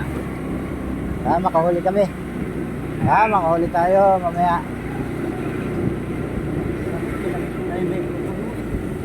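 Small motorboat engine running steadily throughout at moderate level, with people talking over it in bursts.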